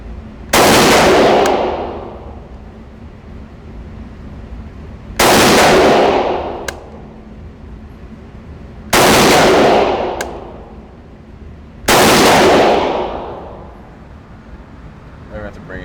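Four loud, sharp gunshots from a Springfield Armory Hellion 5.56x45mm bullpup rifle ring out outdoors, spaced a few seconds apart, each with a decaying echo, and a person speaks between shots.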